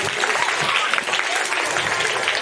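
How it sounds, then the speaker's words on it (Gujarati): Children at a primary school costume programme clap together in a dense, steady burst of applause that fills the room from start to finish. "હા ચલો સરસ ભાઈ તાળી વગાડો ભાઈ."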